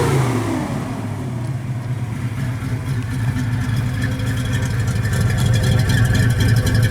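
A 1967 Chevrolet Impala with a 450-horsepower engine and dual exhaust runs close by, its deep, rumbling idle rising as the engine is revved and held at higher revs, steady and loud with no talking.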